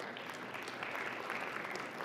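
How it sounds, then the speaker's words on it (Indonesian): An audience applauds for Pupuk Indonesia at a forum on food security, a brief steady patter of clapping from a crowd, faint and at a distance. "Tepuk tangan untuk pupuk Indonesia."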